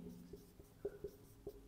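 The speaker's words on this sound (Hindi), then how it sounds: "तो यहाँ पे लिखते हैं फर्स्ट" Chalk or marker writing on a board during a physics lecture: a quiet series of short taps and strokes, close by, with no talking.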